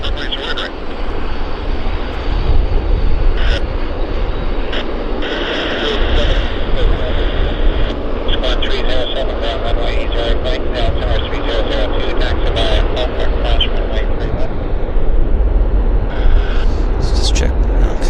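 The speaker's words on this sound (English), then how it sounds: "So we've got another lander. It's a Q400 inbound from Kelowna." A Q400 turboprop airliner, inbound from Kelowna, lands at Vancouver airport, making a steady, loud, broad engine roar that fills the whole stretch, with voices heard over it.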